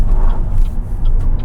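A BYD Dolphin front-wheel-drive electric car accelerating on a real road, a steady loud low rumble of road and motor noise filling the cabin, with no talk.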